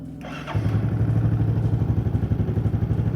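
A fuel-injected motorcycle engine cranks briefly with a whirring starter, catches about half a second in, and settles into a steady, loud, close idle with an even rumbling pulse.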